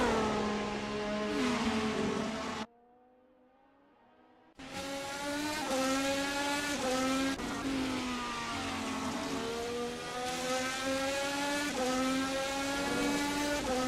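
Race cars in a sim racing game at Mugello roar loudly and continuously, with rising and falling engine pitch as they pass and shift gears. A brief near-silent gap breaks the sound early on, and no one speaks.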